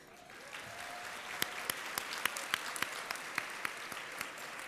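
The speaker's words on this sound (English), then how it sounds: "clap if you enjoyed Summarize" Audience applause at a Summarize closing ceremony in a packed 650-capacity room, a steady wash of many hands clapping at once, with a few louder close claps popping out above the crowd.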